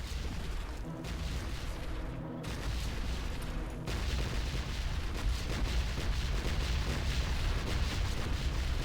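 Corrosion mortar artillery firing in the sci-fi strategy game Siege of Centauri, dense repeated booms and rumbling blasts that run on continuously.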